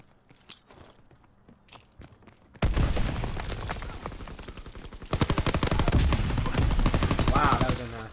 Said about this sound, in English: So I'm throwing my stun, I think I'm gonna throw my nade.